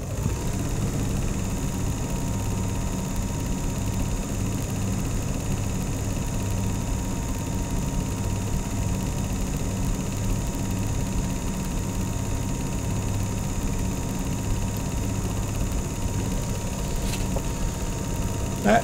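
A Chinon 2000GL cine projector runs with its shutter wheel spinning, giving a steady, continuous mechanical whir and hum at close range, unbroken for the whole stretch.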